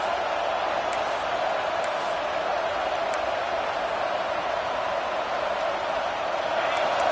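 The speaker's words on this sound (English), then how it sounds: "Listen to this crowd just shaking the girders of this place, trying to help their defense." A Penn State football stadium crowd roars steadily to support the home defense, a sustained dense wash of massed voices with an announcer talking over it.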